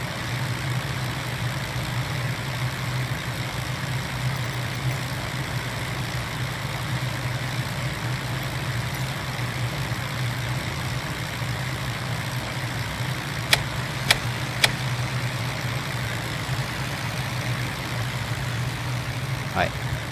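Steady drone of a Piper PA30 twin-engine aircraft in a flight simulator, a constant low hum with higher tonal layers running throughout, broken by a few brief clicks near the end.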